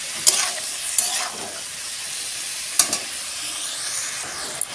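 Ash gourd stirred with shrimp and cumin powder in a sizzling pan, a steady frying hiss broken by a few sharp scrapes of the spoon against the metal.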